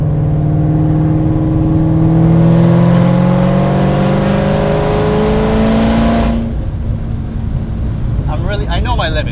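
A Ford GT fitted with Heffner Performance upgrades revs hard while driving, its loud, close engine note climbing steadily for about six seconds before easing off, with a voice speaking over it.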